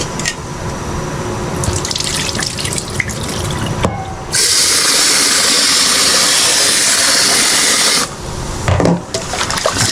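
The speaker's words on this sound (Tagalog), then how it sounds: "kailangan natin hugasan ang sinaing" Rice being rinsed under a running kitchen tap, a loud steady gush of water into a sink with splashing and handling noises before and after the main flow, no one speaking.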